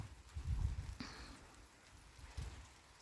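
Autumn rain falls during an outdoor walk in a garden, a soft, steady patter heard up close with a few louder rustles and footstep-like thumps.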